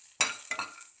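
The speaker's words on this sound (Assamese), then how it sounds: "মই নহৰু আৰু জ্বলাখিনি অকণমান ভাজি ল'ম" Garlic and chillies dry-frying in a pan with no oil, two short bright bursts of sizzle and stirring scrape, close and fairly soft, with no talk.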